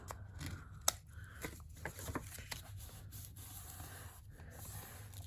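Scissors snip along the uneven bottom edge of a small paper craft tag, giving a few quiet, crisp cuts and light paper rustles close by in a soft setting.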